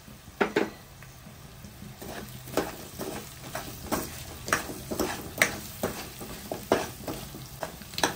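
A pan of sweet potato curry being stirred, with a steady rhythm of spoon scrapes and clinks over a soft sizzle, close and moderately loud with no talking.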